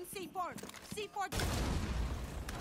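C4 charge exploding in the video game Rainbow Six Siege, a sudden loud blast that cuts in after a voice speaks, followed by a sustained noisy roar of debris and rumble.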